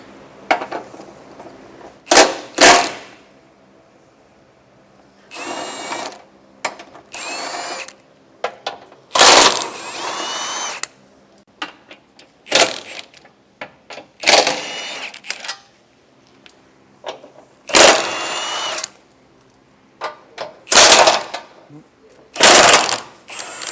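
Power tool, likely an impact driver with a 21mm socket, removing bumper beam bolts on a 2021 Jaguar during a hitch install, in loud bursts of whirring and ratcheting separated by quieter gaps.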